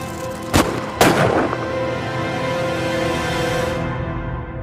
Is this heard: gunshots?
yes